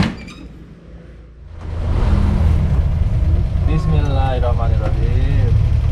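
Daihatsu Hijet 1000 car pulling away on a road in Kediri: quiet cabin at first, then the engine note rises after a couple of seconds into a steady loud drone, with voices talking over it.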